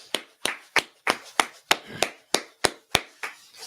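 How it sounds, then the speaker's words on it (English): Rhythmic clapping at a church gathering, about a dozen sharp, evenly spaced claps, close and distinct with short gaps of quiet between them. "let's go ahead and clap it up."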